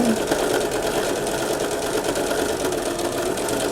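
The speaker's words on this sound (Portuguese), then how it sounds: "Estamos pespuntando." A sewing machine stitches placemat fabric in a fast, continuous mechanical whir, loud and close with no pauses.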